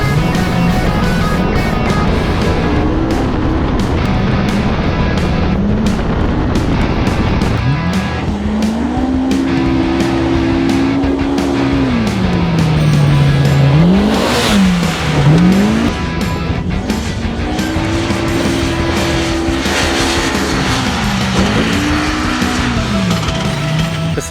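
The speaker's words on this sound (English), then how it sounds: "But that new 225 horsepower motor is just like, it just screams." A Polaris RZR Pro R side-by-side with a 225 horsepower engine racing on a track, its motor screaming loud and close as the revs climb and fall through repeated shifts and tire noise.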